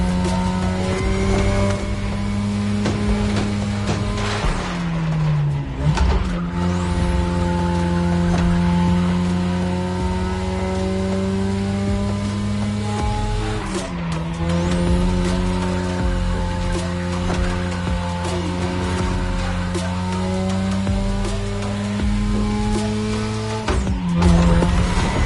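Race car engines roar through a Touge street race in The Crew Motorfest, a loud sustained drone with gear shifts and revving pitch swells around five, fourteen and twenty-four seconds.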